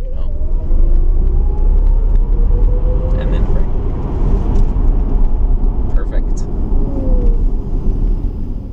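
A Tesla electric car accelerates at speed, giving a steady loud road rumble with a faint rising whine. People talk inside the car throughout.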